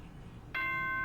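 Chime from the Danganronpa: Trigger Happy Havoc video game school announcement, a sudden bright sustained bell-like tone that rings out loudly after a quiet low hum and holds to the end.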